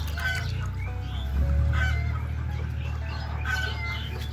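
Chickens on a poultry farm waiting at the drinkers, clucking and calling as a crowded flock over a constant low mechanical hum, with no clear voices.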